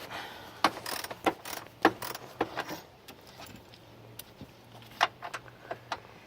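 A socket wrench works on the bottom-mounted battery bolt of a 2007 Chevy Avalanche, giving irregular metallic clicks and ratcheting clatter, close and fairly quiet, with short pauses between bursts.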